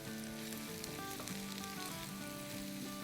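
Mashed potato stuffing with the green tops of green onions sizzles steadily in a frying pan, a soft continuous crackle with light stirring and no speech.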